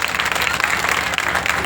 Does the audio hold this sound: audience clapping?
yes